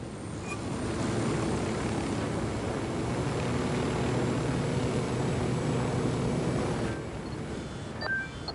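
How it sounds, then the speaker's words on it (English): A helicopter in the video game Ghost Recon Wildlands drones steadily at a moderate distance, a continuous rotor-and-engine hum that holds even for several seconds before easing slightly. "we got your helicopter."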